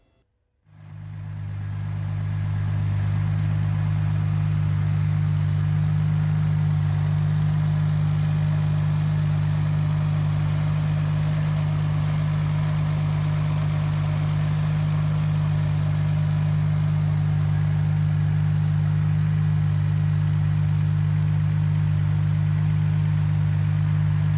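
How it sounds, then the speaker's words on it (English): A BMW E46 engine starts and settles into a steady, loud idle after a catch can install, its low even hum holding unchanged for over twenty seconds with no voices. "I fired up the engine and let it idle."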